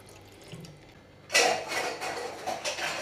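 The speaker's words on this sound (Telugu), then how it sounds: "ఫ్రెష్ వాటర్ పోయాలి." Fresh water pours into a container at home, starting abruptly after a quiet moment and running as a steady, close, splashy stream with small surges until the end.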